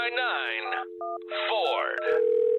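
A telephone number is punched into a phone, with a quick series of loud, close electronic touch-tone beeps in two bursts separated by a short pause, over a steady tone.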